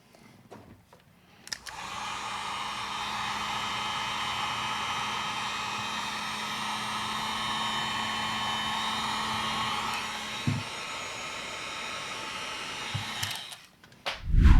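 A heat gun shrinks heat shrink tubing over a 12S battery pack, blowing as a steady, loud airflow roar for about eight seconds with a faint low hum beneath it, then cutting off. A few handling clunks follow.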